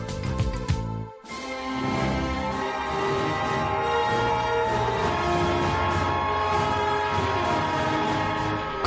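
A Qinghai-Tibet train pulls out of Xining at about 3,000 m altitude, with loud, sustained horn-like tones over a heavy rolling rumble, briefly cutting out near the start and then continuing steadily.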